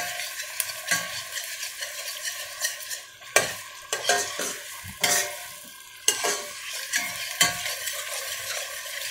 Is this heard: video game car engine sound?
no